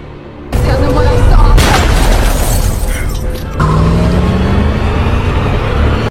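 In a film scene, a car speeds off with a loud, steady roar of engine and road noise that lasts several seconds after a sudden burst at the start. A shift partway through shows the engine pulling harder.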